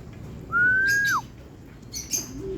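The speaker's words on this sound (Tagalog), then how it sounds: "So yun guys, meron tayong dumating na ibon." A bird gives a loud rising, whistled call followed by a few faint chirps nearby, with no talk.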